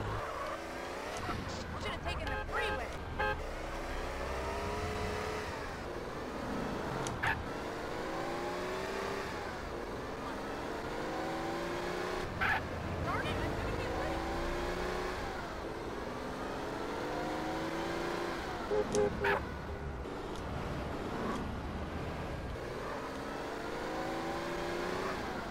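Car driving in GTA San Andreas, with the engine repeatedly revving up through gear changes, tires squealing now and then, and a steady game soundtrack behind it, while a German-speaking player talks throughout.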